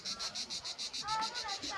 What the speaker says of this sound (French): Ah, on entend les cigales.